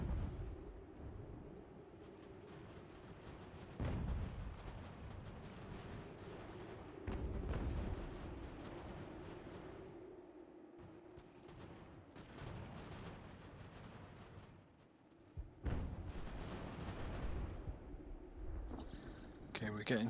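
Cannons fire canister shot in the battle game Ultimate General: American Revolution, with several heavy booming volleys spaced a few seconds apart over a steady rumble of battlefield noise.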